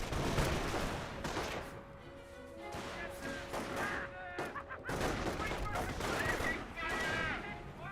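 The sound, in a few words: gunfire from Panzer Grenadiers in the video game Company of Heroes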